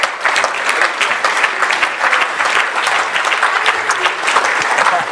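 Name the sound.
audience applause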